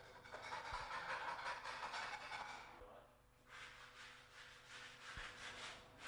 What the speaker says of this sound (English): Remove any loose flaking paint with a scraper.